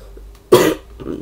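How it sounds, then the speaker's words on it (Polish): A single close cough, short and harsh, from a person. A low hum runs underneath, and a faint murmur follows the cough. "Sorry za kaszel, ale mnie męczy."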